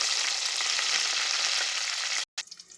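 Onions and mint frying in a pan for chicken curry, a loud, dense, continuous sizzle close up that cuts out abruptly near the end before resuming more quietly.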